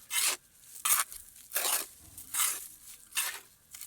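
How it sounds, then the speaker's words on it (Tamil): Potting soil mixed with a tea dust solution is stirred by hand in five or six rhythmic gritty rasping strokes, each a short close scrape separated by brief quiet gaps. "இதெல்லாம் சேர்த்து ஒன்றா கலக்கிக்குவோம்"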